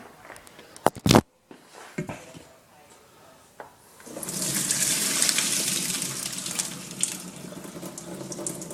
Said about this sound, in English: I'm going to pour it in this strainer, and I'm going to strain all the water out.